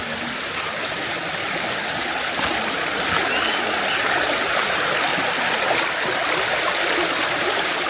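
Water flows steadily from a well in a Konkan village, a continuous broadband rush like a small stream or spillway, close and even throughout with no talking.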